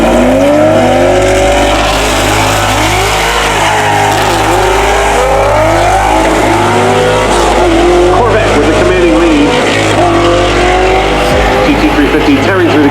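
A Xona-powered 1497 WHP Ford Mustang GT350 race car tears through the gears on a half-mile pass toward 193 mph, a loud continuous engine roar with rising, shifting pitch sweeps and some tire noise throughout.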